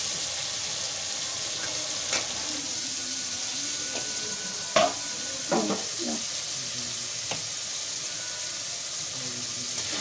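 Tomato frying in oil in a pan, giving a steady broadband sizzle throughout with a few sharp utensil clicks and scrapes partway through, close and moderately loud, with no talking.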